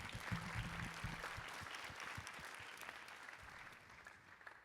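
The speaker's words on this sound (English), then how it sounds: "Another round of applause, please." Audience applause fills a conference paper session after a talk, a steady dense patter of many hands at moderate level that gradually thins out toward the end, with no one speaking over it.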